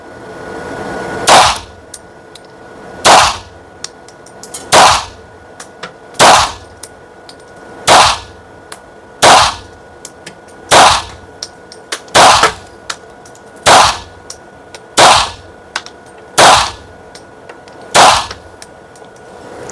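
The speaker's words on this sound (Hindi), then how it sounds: "हम 7 मीटर के डिस्टेंस पे ये .32 कीबैग TPZ चला रहे" .32 Kiehberg PPZ pistol fired at a 7-metre range, a long series of about a dozen sharp, loud, evenly spaced shots roughly every one and a half seconds, with no talking.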